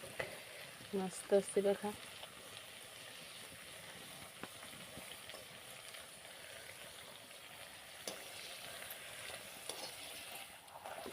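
Potato bhaji being sautéed and stirred in a pan for puri bhaji, a soft continuous sizzle and hiss with a few scraping stir clacks early on, while someone briefly talks over it.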